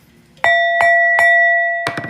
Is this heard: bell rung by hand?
yes